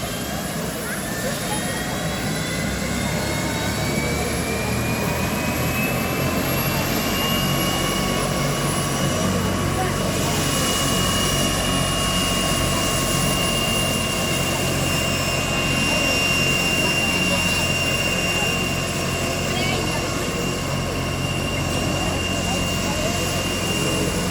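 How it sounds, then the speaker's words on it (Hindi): A helicopter engine runs steadily with a rising turbine whine and a low rumbling drone, loud and sustained throughout, with no voices heard. "और ये हेलीकॉप्टर स्टार्ट हो चुका है"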